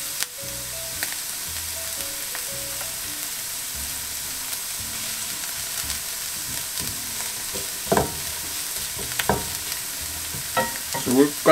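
Vegetables for a Spanish tortilla soften in a pot over low heat, a quiet steady sizzle with a faint low hum and occasional spoon clinks growing busier near the end, no voices.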